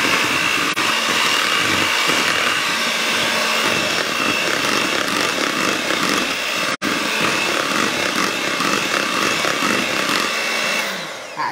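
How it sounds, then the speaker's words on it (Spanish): Power tools from construction work next door roar loudly and steadily, with a grinding, sawing drone that continues almost without a break through the whole stretch. "como que andan con una construcción al lado, muchachos, así que tenemos de soundtrack"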